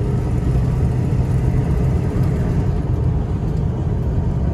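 A Ford 7.3 Powerstroke diesel truck engine runs at part throttle with about 5 psi of boost, giving a loud, steady low rumble and drone that holds even throughout, with no voices.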